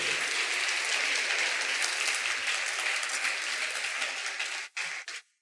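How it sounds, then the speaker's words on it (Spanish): A church congregation claps loudly and steadily for several seconds during a sermon, then the applause breaks up into a few scattered claps and fades out. "Aplaude al Rey."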